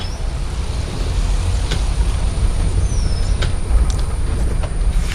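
A caravan rolls into a parking area with a steady, loud, close engine and road rumble. Brief hisses and faint squeaks rise over it.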